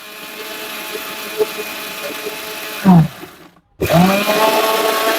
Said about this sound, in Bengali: এটা হাই পাওয়ারের ব্লেন্ডার, হাই পাওয়ার